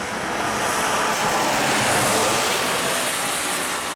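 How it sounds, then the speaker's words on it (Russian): Steady rain drumming on a moving vehicle during a drive, a dense, continuous wash of noise close by with no talk, cutting off abruptly at the very end. "Вот машин нету, слышно, как дождь барабанит."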